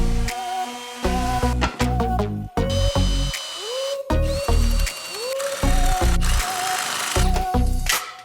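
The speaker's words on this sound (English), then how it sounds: "Now I just got to sand them down" A power sander working wooden birdhouse pieces, whirring in repeated bursts that stop and restart every second or so, its motor pitch rising and falling. The sound is close and loud.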